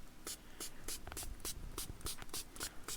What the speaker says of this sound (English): sprays on with this little atomizer. So you spray it on